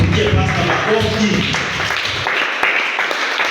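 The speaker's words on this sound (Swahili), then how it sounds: "Tuje pasta makofi." A church congregation breaks into applause for the pastor at a service: a dense wash of clapping that stays steady and close throughout, then thins slightly toward the end.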